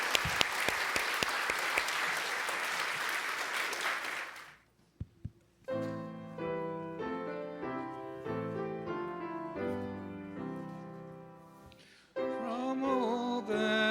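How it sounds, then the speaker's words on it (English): Dense audience applause for the actors at a Unitarian Universalist service fills the first four seconds, then stops abruptly; after a short pause, harmonized instrumental hymn music begins and plays on. "Now let's give our actors a round of applause."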